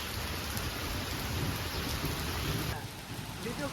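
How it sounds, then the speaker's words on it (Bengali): Heavy rain pours down in a dense, continuous roar, steady and close with no break, thinning slightly near the end. "হেভি বৃষ্টি হচ্ছে কিন্তু"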